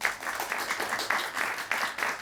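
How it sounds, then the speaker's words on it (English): An audience applauds guests at a table-talk event, a short burst of brisk, even clapping close by with no voices over it. "I would just love to give a lovely round of applause to all our guests."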